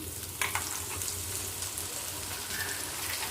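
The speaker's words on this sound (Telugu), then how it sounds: "అల్లం పేస్ట్ ఒక 3 చెంచాలు వేస్తున్నాను." Ginger paste sputters in hot oil for a chicken pickle, with a sharp splatter as it drops into the pan and then a steady close sizzle under a few stirs.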